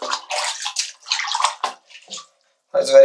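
Water is poured over an Honor Magic 8 Lite phone in bursts of close splashing and trickling broken by short pauses, and a voice briefly joins near the end.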